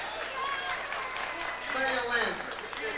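Applause from guests at a 2009 retirement dinner, a steady wash of clapping lasting several seconds, swelling slightly toward the end, with people talking over it.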